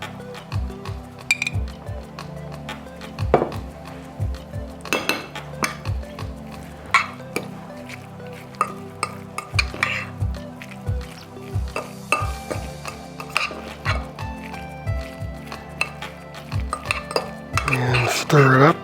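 A spoon stirs mayonnaise into tuna salad in a bowl, giving a steady rhythm of close clinks and scrapes against the side, continuous and fairly loud.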